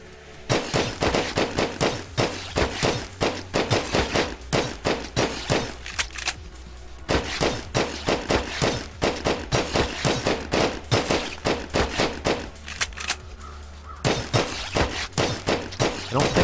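Pistol shots in the video game Grav ring out in rapid, regular volleys, loud and close, with short pauses between bursts and no talking.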